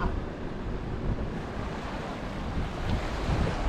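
Big ocean waves break against a jetty after a hurricane, making a continuous roaring wash of surf blended with steady wind buffeting across the microphone.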